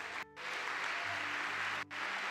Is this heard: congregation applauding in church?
yes